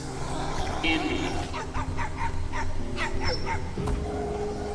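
A dog yips and whimpers in a rapid series of short high cries, with a low background rumble and some voices.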